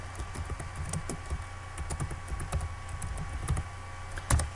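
Computer keyboard keys being typed in irregular quick bursts, close and fairly quiet over a steady background hum, no talking.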